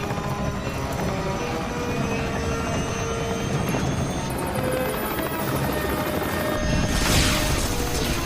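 A helicopter with a failing rotor in a sci-fi disaster movie scene roars with a loud, dense whine and rumble throughout, joined late by a rapid metallic rattle and a swelling rush of noise.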